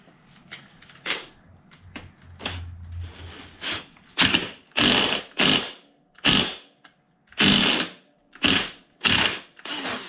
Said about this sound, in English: put this on and bolt it down without the clip on